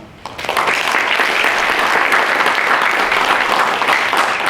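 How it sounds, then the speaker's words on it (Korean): An audience at a youth leadership forum in Korea breaks into loud, sustained applause, a dense wash of many hands clapping steadily from start to finish, with no speech over it. "정말 큰 박수가 필요합니다."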